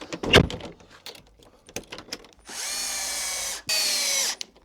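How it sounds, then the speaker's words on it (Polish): Power drill driving a screw into the fitting of an old wooden door: a few clicks and knocks, then two sustained loud whirring bursts of about a second each with a brief pause between, close up. "zacznę od przykręcenia tylko środkowego wkręta"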